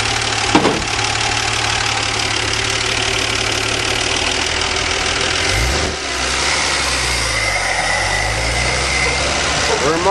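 A 1977 Dodge van engine runs steadily on a test drive with a seized passenger-side brake, a loud, close, droning rumble inside the cab that shifts in pitch near the end.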